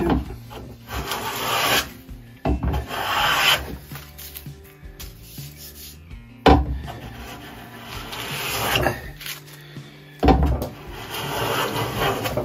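A hand plane shaves a wooden workpiece for a vertical workbench vise, several long, loud rasping strokes separated by short pauses and repeated in a steady rhythm close by.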